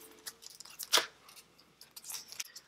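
Deck of cards for the solo board game Wars of Marcus Aurelius being shuffled by hand, a quiet run of soft riffling, papery flicks with one sharper burst in the middle, close and alone without talk.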